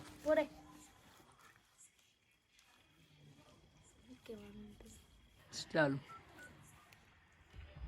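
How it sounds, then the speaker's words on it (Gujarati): Phone keypad dialing tones beep in quiet surroundings, with a few separate tone bursts spread across the stretch and soft voices in between. "સુજલનો ફોન કર"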